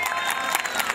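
A crowd applauds at a village harvest festival in Çamlıpınar, a brief steady burst of clapping with no break.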